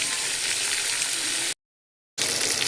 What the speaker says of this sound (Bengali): চলুন চিকেনটাকে ভালো করে ভেজে নেব।